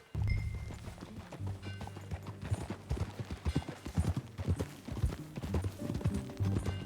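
Rhythmic clip-clop of horse hooves at a steady riding pace in Red Dead Redemption 2, close and continuous, with a faint low background hum.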